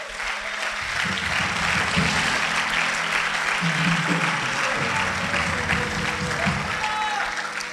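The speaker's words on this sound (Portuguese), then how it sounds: "Será que você pode aplaudir ao Senhor?" Audience applause for the Lord fills an evangelistic church service, steady and sustained throughout with voices and cheers mixed into the crowd noise.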